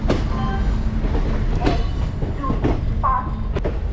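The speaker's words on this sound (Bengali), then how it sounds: "এই দেখুন ওই ট্রেনটা গুয়াহাটি নর্থ লক্ষ্মীপুর জনশতাব্দী এক্সপ্রেস সদ্য চালু হওয়া" The newly introduced Guwahati–North Lakhimpur Jan Shatabdi Express passing by, a steady loud rumble of rolling wheels with rhythmic clacks at rail joints and brief squeals and clanks mixed in.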